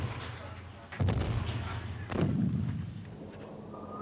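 Artillery fire in a Falklands conflict setting: two heavy booming blasts about a second apart, each with a sharp onset and rumbling decay, over a steady low background hum.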